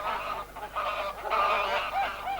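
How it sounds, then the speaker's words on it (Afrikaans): Several waterfowl honk and quack together in a steady, noisy chorus at close range, with no talk. "Stilte, julle mag nie so raas nie, eende."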